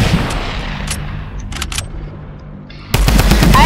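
Gunfire in Fortnite rings out loud and close: a rapid burst of shots, a lull with a few scattered sharp cracks, then a dense volley erupting again at the end, with no talking.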